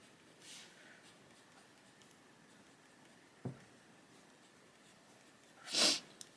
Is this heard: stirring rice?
no